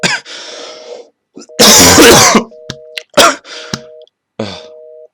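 Several harsh coughs and throat clearing bursts come in quick, uneven succession, loud and close, with brief pauses between.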